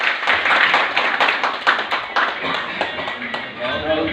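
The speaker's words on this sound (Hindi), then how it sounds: "एक बार सत्य प्रकाश सर के लिए जोरदार ताली" Loud clapping from an audience at a motivational talk, dense and continuous for about four seconds, with a voice or two mixed in.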